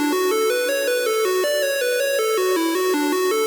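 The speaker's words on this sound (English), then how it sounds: "The square melody sounds like this." A Serum square-wave synth lead plays a steady stepping melody of short notes, buzzy and bright, continuous and upfront with no voices.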